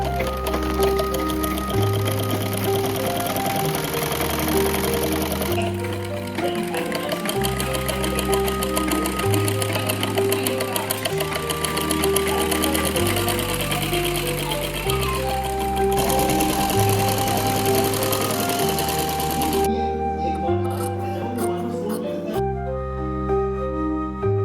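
A sewing machine stitches a lined blouse with a double seam, its steady rapid needle clatter running close and loud in bursts that stop and start, with brief pauses between runs and no talking.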